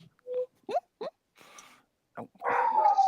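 Dogs bark in short, separate yips and whimpers that rise and fall in pitch, ending in a longer, louder howling wail nearby.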